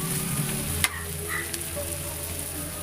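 Onions sizzle steadily in a hot pan while a seafood curry is being cooked, a continuous hiss broken by one sharp utensil clack.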